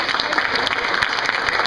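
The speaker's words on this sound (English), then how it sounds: "So let's give her a big round of applause." Audience applause for a presenter at a community development talk, a dense steady patter of many hands clapping close by for under two seconds, with faint crowd voices mixed in.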